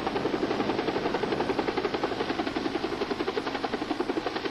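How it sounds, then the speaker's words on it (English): A medical air transport helicopter's rotor thumps in a fast, steady rhythm, loud and close, with the engine droning underneath. "I need a helicopter dispatch to Lake Hemet."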